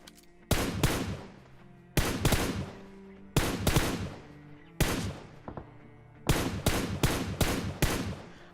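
Gunfire in PUBG Mobile comes as five separate clusters of sharp shots, each a quick burst of two to four cracks followed by a fading ring, close and loud and free of talk.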